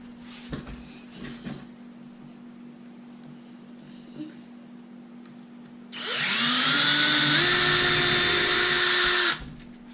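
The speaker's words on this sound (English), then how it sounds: "I'm going to drill out the holes" After several seconds of quiet handling noises, a power drill whines loudly up to speed, drilling holes in leather for a knife sheath, and runs steadily for about three seconds before stopping.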